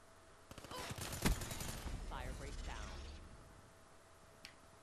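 Gunfire in the video game Call of Duty Black Ops 3 multiplayer, a rapid burst of mechanical shots with a sharp loud crack midway, followed by quieter game effects and a faint click near the end.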